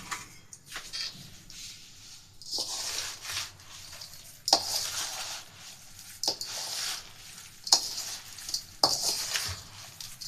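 A spoon mixes lasoda and mango pickle in a bowl, with repeated wet squishing strokes and scrapes coming in bursts every second or so, close and fairly loud, with no talking.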